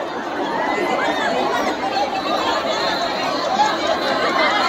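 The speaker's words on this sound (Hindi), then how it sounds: "तो सब जा रहे हैं मंदिर में दर्शन करने के लिए, और देख सकते हैं कितना जबरदस्त भीड़ है" A dense crowd chatters steadily at the Mahashivratri fair outside Dudheshwar temple in Rudrapur, a continuous wash of many overlapping voices with no single speaker standing out.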